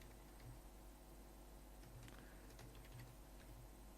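Steady run of soft keyboard typing on a computer while entering PHP code, quiet and close, with faint clicks over a low constant hum and no talking.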